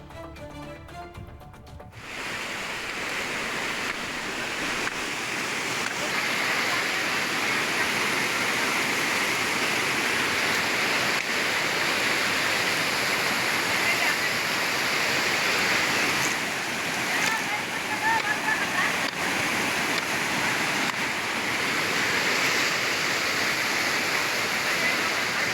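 A waterfall in Yellapur taluk, Uttara Kannada roars with a broad, constant rush of heavy water, loud and steady throughout after a brief quieter start.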